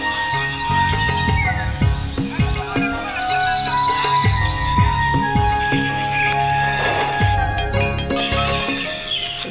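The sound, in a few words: birds chirping in the morning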